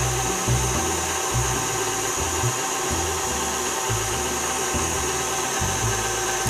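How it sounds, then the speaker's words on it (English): An electric hand mixer whips heavy cream at medium-high speed for a chocolate mousse, a loud, steady motor whir close by with a low, uneven rumble as the beaters move through the cream. "So medium-high speed or in a hand mixer, you just beat it like that."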